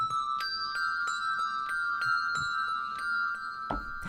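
Hand bells ring out in a bright, clear series of strikes, two bells sometimes sounding together in one hand. Each note rings on with sustained overtones, and the strikes come at a steady pace, close and fairly quiet.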